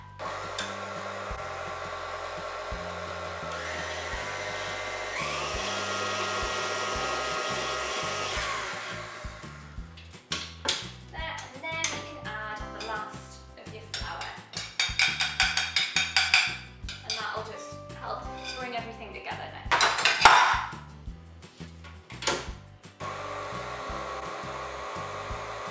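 Cupcake batter with milk and vanilla essence is mixed, starting with a steady, loud electric-mixer-like whir for several seconds, then giving way to irregular clattering, knocks and bursts of mechanical noise.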